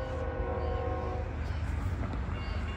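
A northbound train draws near a level crossing on the Glendale line, its steady rumble and rail noise filling the scene with harmonic horn-like tones early on, loud and continuous with no talking.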